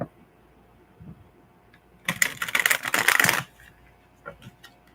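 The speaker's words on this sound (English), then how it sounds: "the more that I'm shuffling this deck" Anime-themed playing cards are shuffled close up in one burst of rapid riffling, about a second and a half long. Quiet room noise comes before and after, with a few light taps near the end.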